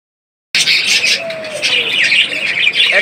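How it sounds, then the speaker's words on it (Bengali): Caged rainbow budgerigars chirp and chatter close by, with busy overlapping tweets and a brief whistled note. "রেমবো কোয়ালিটির এক দুটো বাজিকার পাখি ডিমে বসে অবস্থা রয়েছে"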